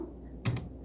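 Computer keyboard typing: a single soft, close key press like a spacebar tap, brief and isolated in a quiet room.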